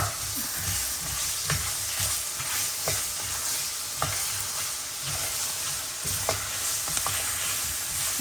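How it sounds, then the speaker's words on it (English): Vegetables for a Southern gumbo sautéing in a pan, a continuous close sizzle broken by periodic sharp utensil scrapes and taps as they are stirred. "And you can saute that."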